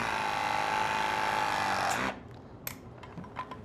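A Ridgid ProPress plumbing press tool crimps a pipe fitting, its motor giving a steady close whirring drone for about two seconds before stopping abruptly, followed by a few small clicks and handling sounds.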